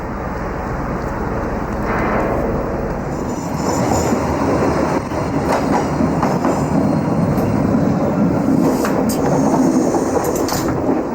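Train running on rails, a loud continuous rumble and rattle of the carriages with faint clicks and squeaks from the wheels throughout.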